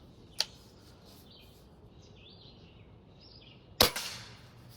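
Hatsan .25 caliber break barrel air rifle firing two sharp, loud cracks about three seconds apart outdoors, the second followed by a short echo, with faint birdsong between.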